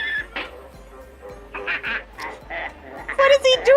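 A duck quacking in short, nasal bursts, a few scattered calls growing louder toward the end over a soft background hum.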